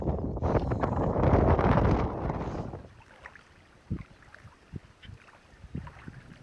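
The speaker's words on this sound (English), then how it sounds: "paddling's a little harder than I thought" Kayak paddling on a salt lake: heavy wind buffeting the microphone for the first few seconds, then quieter water with scattered paddle splashes and dips, close by.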